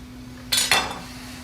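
A knife and fork cut through bacon-wrapped meatloaf and strike a plate twice in quick succession. The clinks are close and bright and fade quickly over a faint steady hum.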